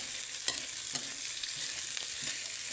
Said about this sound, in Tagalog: Ilagay na natin yung ating mais, mga kaanak. Yan. So, haluin lang natin.